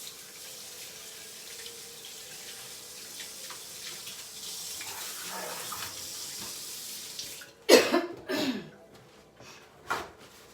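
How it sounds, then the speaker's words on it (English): Hands are washed under a running kitchen tap, a soft steady stream of water that ends with a few louder splashes and knocks near the sink. "Let me wash my hands."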